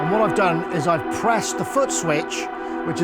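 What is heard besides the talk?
None of the usual background noises is heard.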